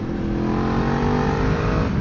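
Close, loud engine roar of a Yamaha MT-10 motorcycle pulling hard under acceleration, its tone climbing steadily over two seconds with wind noise and no talking.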